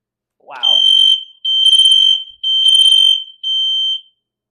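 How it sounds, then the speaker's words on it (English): A fire alarm sensor system shown at a Las Vegas trade event goes off with four loud, piercing electronic beeps in a steady on-off rhythm, close by, after a brief startled voice at the start. "this is the alarm sensor or system that so far that I can say is on the top of the market"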